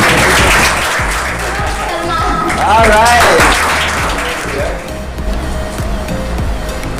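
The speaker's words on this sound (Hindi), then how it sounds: "Guys, keep clapping." At a recognition ceremony, an audience claps in a loud, busy wash of applause with a voice talking over it, and the clapping continues under the speech throughout.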